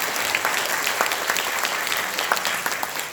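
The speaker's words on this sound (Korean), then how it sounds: "박수 부탁드립니다." An audience at an event held in the National Assembly building applauds, a steady, even wash of many hands clapping without a break.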